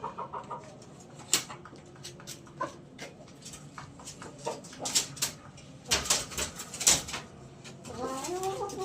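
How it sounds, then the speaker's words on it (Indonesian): A chicken sick with respiratory snot disease makes rough snoring and rattling breath sounds up close, with scattered clucks and other noises mixed in. "Ayam ngoroknya"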